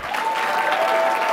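An audience at the 2019 Black Excellence Awards claps loudly for the honorees, a brief, dense burst of applause with a faint sustained tone running underneath.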